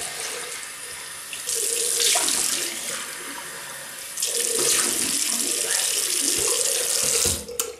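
Tap water runs into a bathroom sink while a freshly shaved face is rinsed, a loud steady gush with splashing surges that drop away briefly around the second and fourth seconds before picking back up, close by and without speech.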